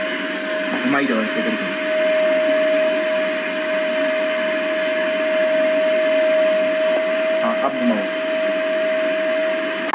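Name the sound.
vacuum cleaner running over hair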